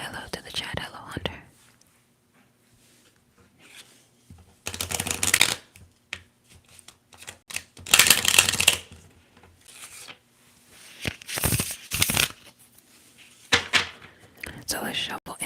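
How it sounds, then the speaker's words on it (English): Tarot cards shuffled during a whispered reading, several bursts of crisp riffling and card slapping separated by quiet gaps, close and soft, with a whispering voice between the shuffles. "So let's shuffle and see exactly what spirit has for you at this time."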